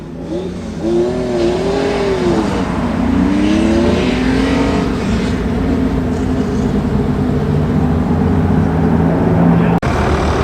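Several classic rally cars, including a Mercedes Pagoda and an Opel Kadett, roar past at speed at Oulton Park, engines rising and falling in pitch as they go by, loud and sustained with no talking.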